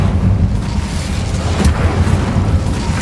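A fiery Incendio spell cast in the Hogwarts Legacy video game, heard as a loud, sustained low rumbling roar with a booming burst partway through, continuous for about three seconds.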